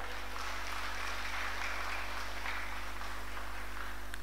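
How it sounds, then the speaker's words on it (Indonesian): A congregation claps during a church service, a steady wash of applause heard at a distance over a low constant hum. "Beri tepuk tangan yang meriah bagi Tuhan."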